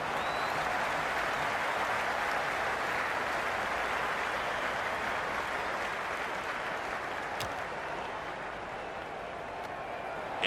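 Stadium crowd at a Pakistan versus Australia cricket match cheering and applauding, a dense, steady roar of clapping and voices that fills the whole clip without letup.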